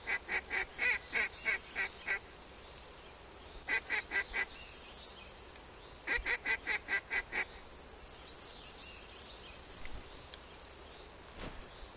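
A duck call sounding in a hunting simulator game, blown in quick rhythmic bursts of four to eight honking quacks, three separate runs close and fairly loud, with faint bird sounds afterward over quiet background.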